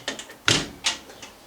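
A hinged door with newly riveted hinges is opened on a workshop lathe-tool build, giving a few short, close knocks and scrapes with a sharper clack in the middle.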